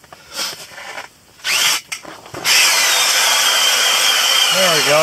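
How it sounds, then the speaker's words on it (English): A Ryobi cordless drill bores holes through ice while ice fishing for perch in sub-zero cold, starting in short stop-start bursts and then settling into a loud, steady, continuous grinding whir. "Drill's getting a little tired on me."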